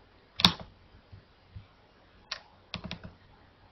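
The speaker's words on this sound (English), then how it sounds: "so I'll type corner and I'll use the automatic entry" Quiet keystrokes on a computer keyboard, a sharp click followed by a few soft taps and a small cluster of clicks, close and isolated in an otherwise quiet room.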